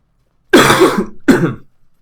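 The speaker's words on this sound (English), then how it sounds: "And now I need to cough." Two sharp coughs, the first a longer harsh burst followed by a shorter one, close and loud with no talking.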